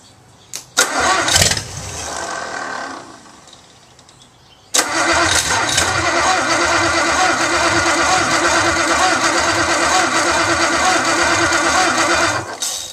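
A 1956 Ford 312 Y-block V8 cranks briefly, catches and dies, then cranks again and fires into a loud, steady, rumbling idle, close to the microphone.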